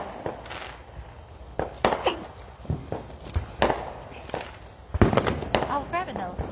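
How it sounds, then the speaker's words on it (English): Fourth of July fireworks and firecrackers pop in sharp, irregular bursts, some near and loud, others more distant, amid crowd noise and people talking. "Look at the fireworks over there."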